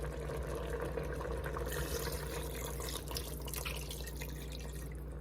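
Water from a cup is poured into a pressure cooker holding chicken stock powder for a pork noodle soup, a steady liquid splash and trickle heard close up under a constant low hum.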